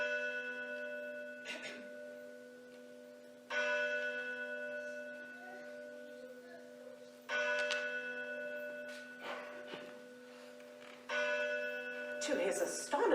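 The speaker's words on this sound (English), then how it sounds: "he heard the bell of a neighboring church strike 4 quarters" A neighboring church bell strikes the quarters, four separate chimes spaced a few seconds apart, each ringing out and slowly decaying, with a voice speaking faintly between them.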